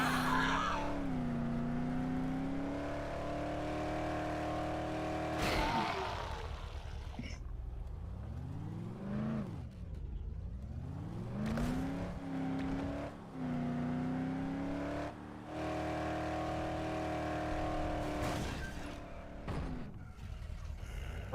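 Video game car engines rev and whine up and down in pitch, with vehicles accelerating and passing, steady and fairly loud throughout.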